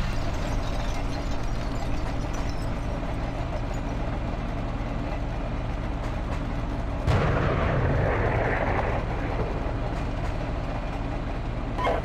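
Gunfire in a military video game fills a dense, continuous battle din, with a louder, heavier burst of shots about midway through and no one talking.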